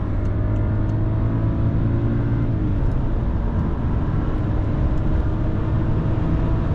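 A 2011 BMW 535i E60 with 306 hp accelerating hard at full throttle, heard from inside the cabin as a steady, loud engine drone with road noise that holds throughout, no talking.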